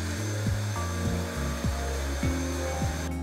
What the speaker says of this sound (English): We're going to puree the onions by turning on and starting on low speed